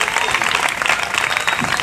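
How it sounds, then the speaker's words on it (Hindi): Audience applause for a guest being called up, steady dense clapping throughout, fairly loud and close, with voices mixed in. "इनके लिए ताली बजाइए"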